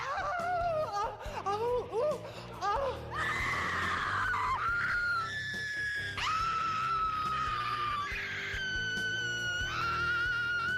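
Loud, shrill screaming from a horror show rises and wails in long drawn-out bursts, several voices overlapping with some laughter-like yelps near the start.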